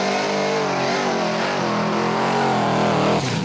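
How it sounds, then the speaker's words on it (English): A 1979 Holden HZ World Body ute with a big block Chev engine and 871 supercharger runs loud and close, a steady heavy engine drone with strong harmonics, the pitch shifting slightly before a brief dip near the end. "I'm driving a 1979 HZ World Body Ute. It's got a big block Chev in it, supercharger 871"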